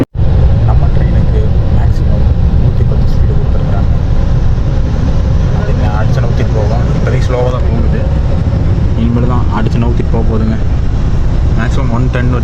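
Train running at speed up to 110 km/h, heard from the upper deck of a double-decker coach near Coimbatore: steady loud rumble with rattling throughout, under continuous talk.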